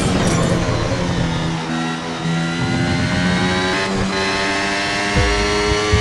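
An F1 race car engine in the F1 Mobile racing game screams at high revs during a flying lap, a loud continuous whine with shifting pitch and brief dips like gear changes, no voices over it.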